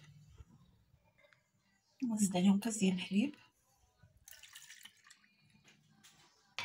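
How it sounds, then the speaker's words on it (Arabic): A glass of milk is poured into a ground mixture of boiled carrots in a kitchen, giving a short, close splashing gush of about a second that is louder than the faint, quiet surroundings. "انا طحنتهم ونزيد عليهم كاس ديال الحليب"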